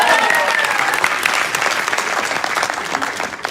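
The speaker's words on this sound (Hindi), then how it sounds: "तालियां के लिए।" Sustained audience applause fills a hall during a motivational talk, a dense, steady clatter of many hands clapping at once, loud and even throughout, tapering slightly at the very end.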